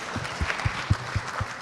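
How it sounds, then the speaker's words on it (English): Audience applause at a legal education session for judges at a festival of ideas, a thin, moderately distant patter of clapping with uneven low thumps, brief and fairly quiet. "give him a huge round of applause"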